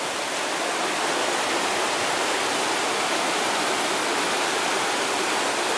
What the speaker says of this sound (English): I knew there was a stream up here somewhere